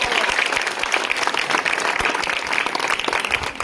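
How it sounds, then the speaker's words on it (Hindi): An audience at a school award ceremony for scholarship exam students claps vigorously, a dense, loud burst of applause that stays steady through the short stretch with no speech over it. "इसके लिए भी जोरदार तालियां।"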